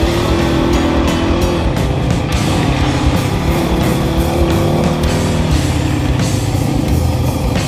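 A car driven fast on a slippery road, sliding sideways, with a loud, steady engine roar close up and rushing, rumbling road and tyre noise throughout, no speech.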